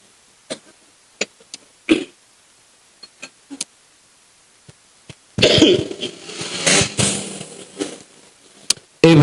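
Scattered sharp coughs and throat clicks early on, then a loud burst of several heavy coughs in quick succession, close by.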